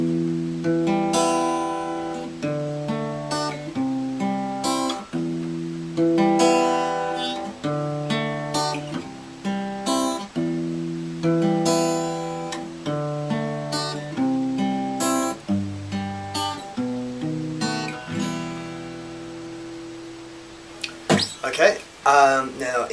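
Guitar playing the second part of the intro: clear, steady arpeggiated notes ring close and alone in a repeating pattern, ending with a few brighter strums.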